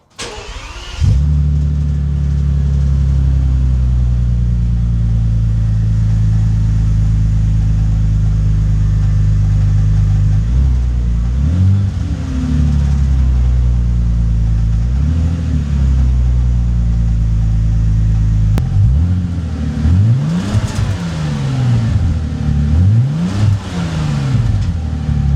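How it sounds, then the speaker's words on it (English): A Bentley under restoration runs with a full exhaust fitted, a steady loud engine drone that holds close and constant, with a few rising and falling revs toward the end. "it's gonna be the time to hear the car for the first time with a full exhaust"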